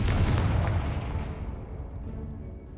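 A Confringo spell in the video game Hogwarts Legacy goes off as a heavy explosion, a loud booming blast at the start that rumbles and fades away over the next couple of seconds, with no talking.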